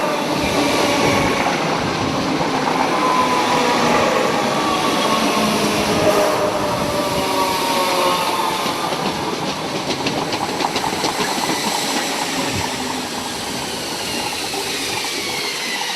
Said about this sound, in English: these 313s operate inner suburban services running to King's Cross and Moorgate